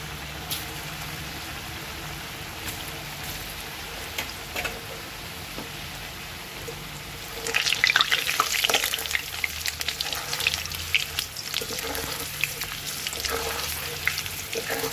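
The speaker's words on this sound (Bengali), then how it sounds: "বড়াগুলোকে দিয়ে দেবো, কাঁচকলা কোপ্তাগুলোকে।" Raw banana kofta balls fry in a pan of hot oil, giving a steady crackling sizzle that swells sharply louder partway through as more balls go in, with no talk over it.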